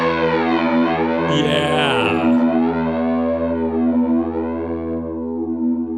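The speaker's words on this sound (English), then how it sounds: "Fuzz, phase, tremolo. That's all you need for stoner rock." A heavily fuzzed electric guitar chord on an Ibanez 2469 Futura rings out loud and sustained, its tone sweeping and swirling with phaser and wavering tremolo.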